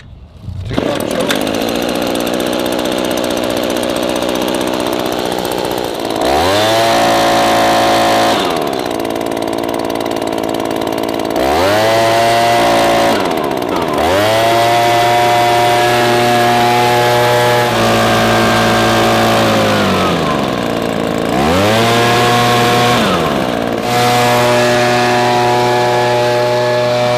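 An ECHO PB-2620 handheld gas leaf blower runs loud and close, its two-stroke engine idling then revving up in several long, rising bursts before dropping back.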